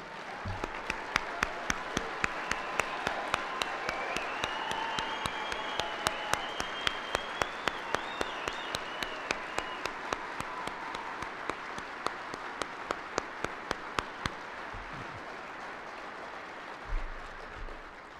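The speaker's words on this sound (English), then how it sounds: "I'd like to ask you to give them a round of applause." Audience applause honors Olympic shooters standing at the NSSF SHOT Show 2013 State of the Industry Address, sustained hall-wide clapping for about fifteen seconds before tapering to a few scattered claps.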